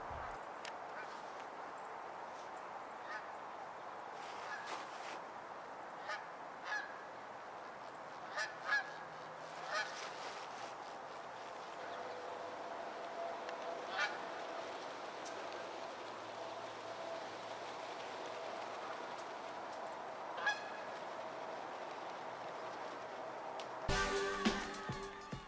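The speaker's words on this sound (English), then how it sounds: "Here come the geese in for a landing on Ridgeside Lake." Geese honk intermittently at a distance while landing on Ridgeside Lake, over a quiet outdoor background, with a brief louder splash-like burst near the end.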